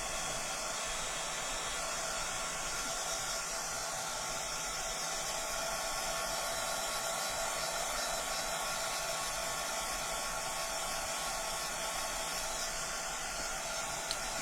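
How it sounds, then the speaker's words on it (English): Heat gun blowing hot air over a gingerbread box coated in mixed media, a steady, even hiss with no pauses, close and constant. "keep your heat gun moving so that the box warms up gradually"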